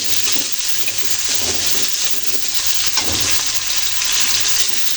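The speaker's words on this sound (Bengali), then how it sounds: "আলু সবজিটা আমি ভাজা ভাজা করে ভেজে নিচ্ছি" Steady sizzling and crackling of potatoes and vegetables frying in a pan, with a few soft scraping stirs, continuous and close.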